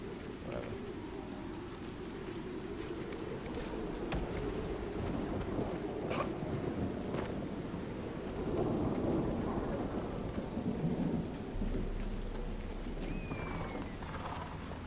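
Steady rain falls through a thunderstorm in the fantasy game Dragon Age Inquisition, with rolling thunder swelling in the middle and a few sharp crackles over the constant downpour, no voices.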